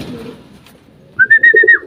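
A pigeon at a loft gives a short burst of cooing notes at the end, close and fairly loud, after a brief stretch of low murmuring background.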